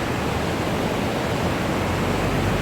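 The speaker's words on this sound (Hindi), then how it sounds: "ये आप पानी का बहाव देख सकते हैं, ज़बरदस्त व्यू है।" A river rushes through Neelam Valley in Kashmir, a loud, dense and unbroken roar of fast-flowing water with no voices.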